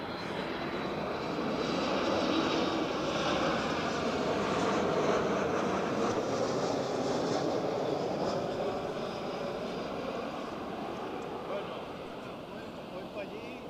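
A Ryanair airliner inbound from Marrakesh comes in to land at Barcelona El Prat, a broad steady jet roar that swells slightly in the middle and holds fairly loud throughout, with no voices over it.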